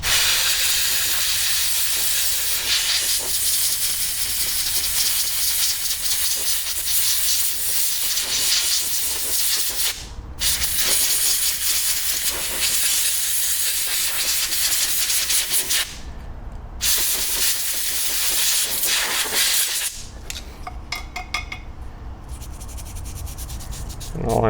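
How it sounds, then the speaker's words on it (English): Compressed air hisses steadily across the debris-covered strainer of a giant 650,000 BTU Dayton torpedo heater, a loud, close blast broken by a few short pauses. "And all I'm doing is just kind of loosening up the debris that's on this strainer and trying to blow it off."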